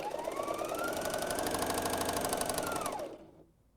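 A Bernina L 660 overlocker sews a thread chain with no fabric, a fast, even mechanical whir with a rapid stitching rhythm, close and steady for about three seconds before winding down to quiet.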